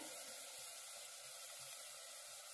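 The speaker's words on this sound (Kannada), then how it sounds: "ನಾನು ಮಿಕ್ಸಿ ಜಾರ್ ತೊಳೆದು ನೀರು ಹಾಕ್ತಾ ಇದ್ದೀನಿ" Rinse water from a mixer jar poured into a simmering pan of egg curry, a steady broad hiss and sizzle that runs evenly throughout with no voices.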